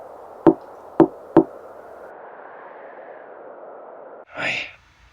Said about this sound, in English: He knocks again.